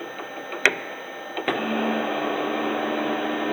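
A K&T Model 2D rotary head milling machine starts up after two sharp clicks, its spindle settling into a steady hum and whir at 1200 RPM, close and moderately loud, with no talking.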